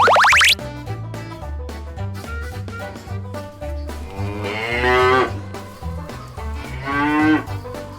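A cartoon-style cow moos twice over bouncy children's music with a steady bass line, each moo rising and swelling loudly above the tune; no voices.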